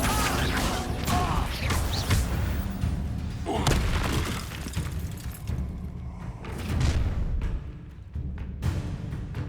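Spell-casting effects from the Hogwarts Legacy video game, a fire spell and a summoning spell, burst out as loud booming, crashing impacts with rumbling thuds over a dense, continuous game soundscape.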